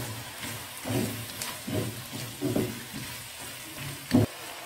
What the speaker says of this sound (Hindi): ये चिकन जो फ्राई करके रखा हुआ था ये भी डाल दें साथ में।